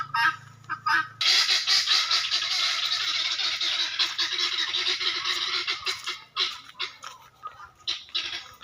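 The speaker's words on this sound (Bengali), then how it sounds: "মুরগিগুলা কিন্তু এখন বাড়ির দিকে চলে যাচ্ছে," Guinea fowl (titir) call as they are herded, giving loud, harsh, rapid repeated cackles close by. The calls come in bursts and ease off toward the end.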